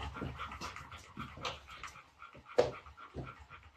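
A small teddy poodle puppy pants in quick, breathy bursts close by, with soft whimpers and a sharper yip partway through.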